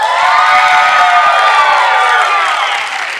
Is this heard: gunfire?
no